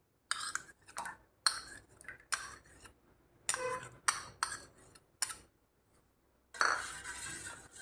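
A spoon stirring curd into milk in a metal vessel gives a run of close, irregular clinks and scrapes with short pauses between them, then a longer scraping stir at the end, with no one talking.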